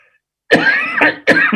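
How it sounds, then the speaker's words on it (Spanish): Two harsh coughs close by, the first longer and drawn out, the second following after a brief pause. "Perdón, la tos, discúlpenme."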